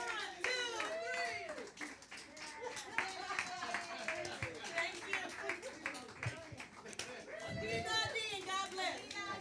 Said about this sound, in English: give yourselves a round of applause too, you guys.